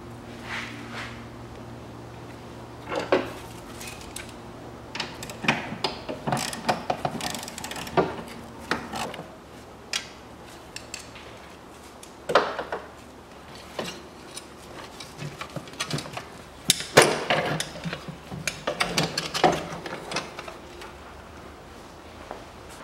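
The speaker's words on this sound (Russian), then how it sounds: "Откручиваю кронштейн кулисы" A wrench turns the bolts on a gearshift linkage bracket of a 1993 Mitsubishi RVR N28W gearbox. Scattered ratcheting clicks and metallic knocks come in irregular bursts, close but fairly quiet.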